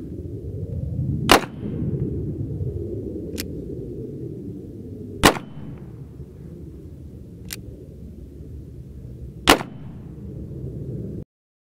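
Three sharp, loud black powder revolver shots loaded with 30 grains, spaced a few seconds apart, each followed by a brief ringing tail, with softer clicks in between over steady low outdoor rumble.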